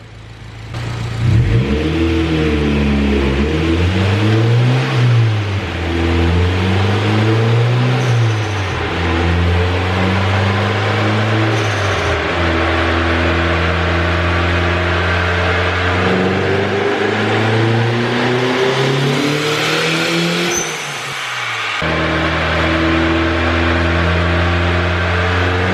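A turbocharged Honda B18 engine on a dyno, loud and close, rises through several surging revs with rising and falling pitch, then holds a sustained high-rpm pull before a brief cut and recovery.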